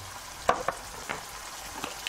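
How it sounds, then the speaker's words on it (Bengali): Red chili powder, turmeric, coriander and cumin fry in hot oil in a pan for a chicken malai kofta curry, giving a faint, steady sizzle broken by a few soft pops and crackles. "দুই চা চামচ দিয়ে এবার মশলাটা কষিয়ে নিব"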